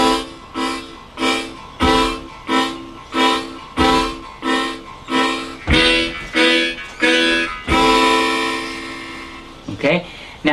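A harmonic minor harmonica sounds a blow and draw exercise on holes one and two together, a chain of rhythmic, pulsing chords ending in a long held note, loud and close.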